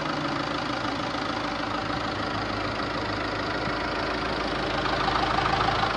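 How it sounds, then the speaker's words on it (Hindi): A 2024 Mahindra Scorpio S with its mHawk diesel engine idles steadily, a close, even mechanical rumble with a faint knocking texture and no talk over it. "इंजन, आप साउंड चेक करिए"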